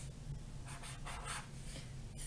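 Hand writing on paper in a quiet room during a fractions math lesson: a few soft scratchy pen strokes come in short bursts over a low steady hum, with no voices.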